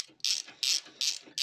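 A ratchet on long extensions loosens subframe bolts during a gearbox and clutch change on a Vauxhall Astra MK4, giving four quick, loud bursts of metallic clicking with short pauses between them.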